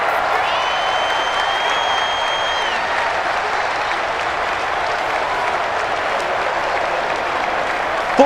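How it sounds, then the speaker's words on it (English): A home crowd roars in Madden NFL 20 at a Patriots versus Ravens game, a dense, steady wall of applause and cheering with a whistle-like tone briefly riding over it early on. "The crowd's not doing that O-line any favors. Home field advantage is really kicking in, making it very difficult for them to hear the snap count."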